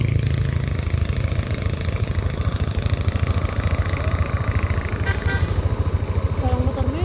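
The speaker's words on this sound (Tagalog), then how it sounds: "Parang motor mo yun ah." A motorcycle engine idles and runs nearby with a steady, rapid pulsing throb throughout, while people talk faintly in the background.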